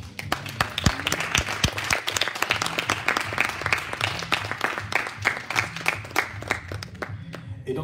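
A church congregation applauds and cheers with dense, sustained clapping from many hands and faint voices mixed in, filling the room steadily from start to finish.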